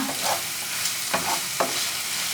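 Onions softening in a hot pan sizzle steadily while a utensil stirs them, giving a few distinct scraping strokes over the continuous frying hiss.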